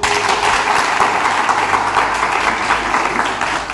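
A church congregation applauds Jesus during a prophetic deliverance service, with dense, steady clapping and cheering filling the whole stretch at close, loud level.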